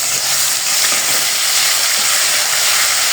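Ginger-garlic paste fries with onions in a pan for a beef korma, giving a loud, dense, unbroken sizzle and hiss close up with no voices.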